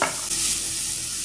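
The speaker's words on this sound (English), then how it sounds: "Give me that sizzle. I love the sizzle." Onions for black bean soup sizzle steadily in a hot pan, a loud, close, continuous frying hiss with a brief stirring scrape near the start and no voices.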